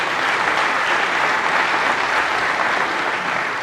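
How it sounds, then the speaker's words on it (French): Crowd at a political rally in Kisangani applauding student youth, steady dense clapping that fills the space evenly and continues at full strength throughout. "Je nous demanderai de les applaudir bien fort"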